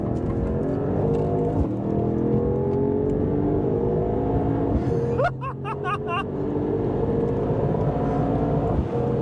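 A 2024 Mercedes-AMG GT 63 Coupe accelerates hard, its engine note climbing steadily through the gears with a brief upshift break midway, loud and close from inside the cabin, with no talking.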